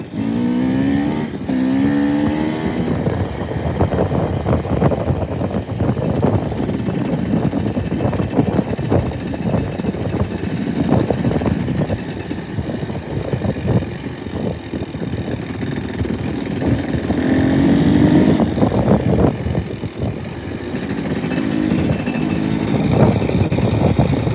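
Dirt bike engine droning steadily while being ridden, loud and continuous with shifting revs, mixed with wind and vehicle rumble, no voices.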